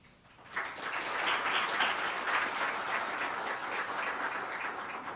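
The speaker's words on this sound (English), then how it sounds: "That was perfect clapping on the cue." An audience at a university research funding announcement breaks into applause after a brief quiet moment, a dense, sustained burst of clapping that stays full and steady to the end.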